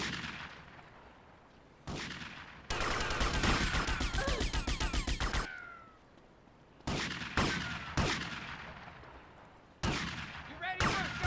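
Close-range shotgun blasts and other gunfire in a video game, heavy booming shots set apart by pauses, plus a dense stretch of rapid fire in the middle, all fairly quiet overall.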